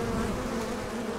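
Bees hum in a close, steady drone at a veterans' hospital beekeeping program, the buzzing continuous and fairly loud.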